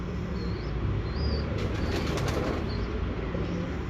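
A pigeon at a breeder's loft flaps its wings in a short burst midway, with faint bird calls and coos around it over a steady background hiss, fairly quiet and close.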